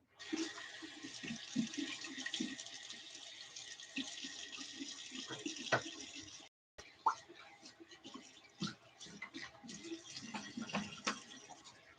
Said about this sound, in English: So now I'm going to get a full rinse.